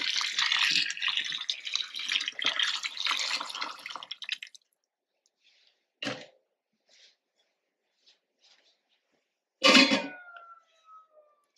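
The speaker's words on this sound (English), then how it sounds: "I'm pouring the hot water" Hot water splashes over fish for a pampano fish soup, a broad hiss of pouring for about four seconds that stops, followed by sparse drips and a couple of louder splashes.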